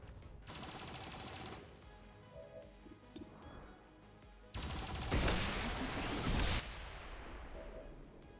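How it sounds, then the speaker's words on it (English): Defense turrets in XCOM Long War open fire in bursts, a rattling fusillade of rapid shots with a louder, dense barrage near the end, fairly quiet overall. "let's see what the turrets can do"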